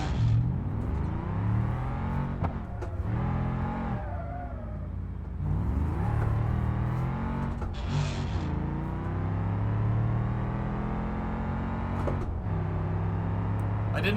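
The hill climb van in the BeamNG driving game revs its engine loudly and close, pitch climbing and dropping in repeated surges with brief breaks between pulls, continuous over the whole stretch.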